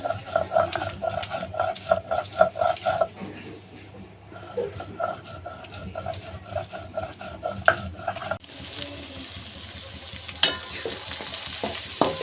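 Chopped onions fry in oil in a wok, crackling and sizzling while a spoon scrapes and clatters against the metal in bursts, before the hiss grows brighter near the end.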